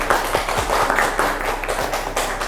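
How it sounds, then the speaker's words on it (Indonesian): Brief, scattered clapping from a small classroom group applauding a presenting group during a teaching performance assessment, light and uneven taps rather than full applause. "kita beri tepuk tangan dulu untuk kelompok 1."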